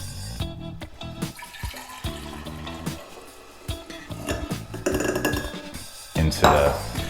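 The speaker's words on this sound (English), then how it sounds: "Okay, so I'm gonna transfer my wort." Homebrew beer wort is poured into a yeast starter container. Liquid splashes and trickles close by, building toward the end, while a voice talks in the background.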